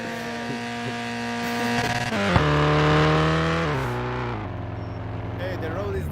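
A car drifting in the Somnium Space VR game, a loud engine drone shifting in pitch as it slides, with a brief squeal rising near the end and voices talking over it.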